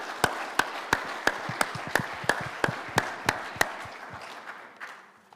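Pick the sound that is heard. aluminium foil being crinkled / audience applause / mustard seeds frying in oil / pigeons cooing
audience applause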